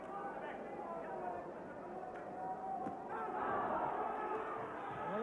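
A boxing crowd at a South African junior bantamweight title bout murmurs and then swells into a louder excited roar after a punch, a dense, steady wash of many voices.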